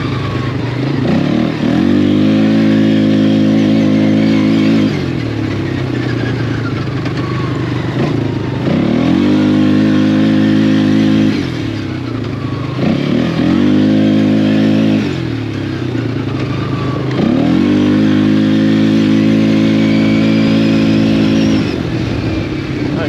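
Polaris Scrambler 500 H.O. ATV engine revving loudly and close while being ridden, with repeated bursts of acceleration climbing in pitch, easing off between pulls, and a steady engine drone throughout.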